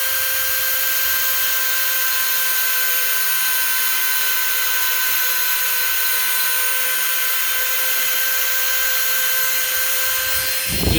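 A Dremel rotary tool grinding out cracks in the dashboard of a 1983 Porsche 944, a loud, steady high-pitched whine that holds for the whole stretch before winding down at the end.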